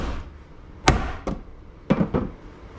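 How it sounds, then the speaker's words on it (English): A manual impact driver is struck with a hammer to loosen T30 bolts on VR6 adjustable cam gears: four sharp, close metallic blows, two in quick succession, a pause, then two more, with no talking. "I am going to use an impact driver. You put it on, whack it, and it'll kind of unscrew."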